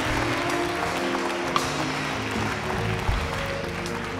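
A church congregation applauding in praise, a fairly dense wash of clapping mixed with room noise, moderate in level and steady throughout.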